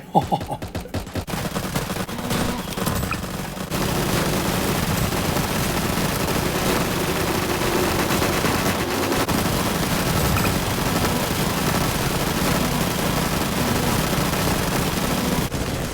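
Rapid gunfire in a Roblox video game, dense bursts of repeated shots running continuously as one loud layer, with voices talking at the start.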